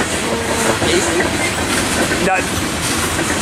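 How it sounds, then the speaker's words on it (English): Ethanol freight train rolling past Fullerton station, a steady broadband rumble with faint wheel clatter continuing throughout, while people talk nearby over the noise. "here's the ethanol train in general"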